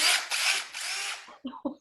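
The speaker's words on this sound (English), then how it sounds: "It's called an impact gun." An impact gun at a construction site whirs loudly and continuously for over a second, then cuts out and fires two short, punchy hammering bursts close up, with no talking.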